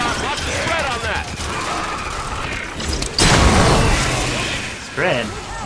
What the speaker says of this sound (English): That's got a scatter shot. Lots of spread on that.